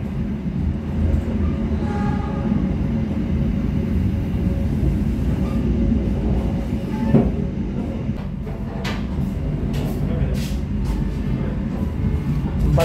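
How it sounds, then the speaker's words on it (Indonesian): The Argo Cheribon passenger train pulls out of Losari station with a steady rumble of wheels on rails, and intermittent clicks and clacks grow more frequent as it moves. "KA kereta api diberangkatkan dari stasiun Losari"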